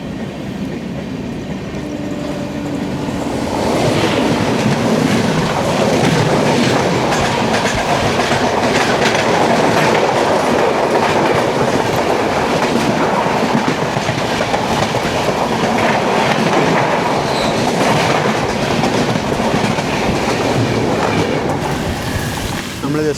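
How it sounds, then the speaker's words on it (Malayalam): Konkan Kanya Express rumbles past loud and close on the Konkan Railway line near Majorda station, with a continuous clickety-clack of wagon wheels that swells after a few seconds and holds steady for the rest. "വരുന്നതാണ് കൊങ്കൺ കന്യ എക്സ്പ്രസ്"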